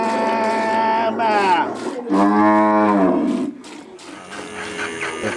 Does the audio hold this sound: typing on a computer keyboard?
no